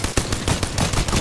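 Rapid automatic gunfire in Apex Legends, a dense burst of sharp, loud shots in quick succession, close.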